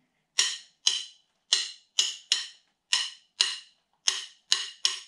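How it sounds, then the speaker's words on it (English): Sharp wooden-sounding clicks on a drum practice pad tap out a 3-2 rumba clave, ten crisp strokes in two repeats of the pattern, close and dry with silence between hits. "it's just a 3-2 rumba clave."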